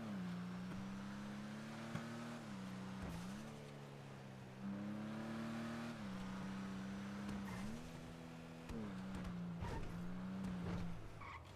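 Several cars rev and skid somewhere off in the distance, faint repeated waves of rising and falling engine drone mixed with brief tire squeals, and no one speaking over them.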